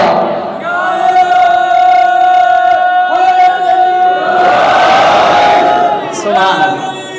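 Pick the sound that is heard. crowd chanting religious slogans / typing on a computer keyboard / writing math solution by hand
crowd chanting religious slogans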